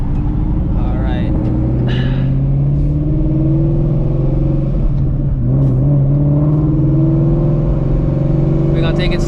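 A supercharged Shelby GT350 rumbles steadily while being driven slowly, its loud low engine drone holding throughout with slight shifts in pitch, and a voice speaks briefly over it.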